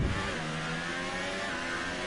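An F1 car engine revs hard in the racing game F1 2018 during a home race in career mode, a steady high-pitched engine whine held for about two seconds with no speech.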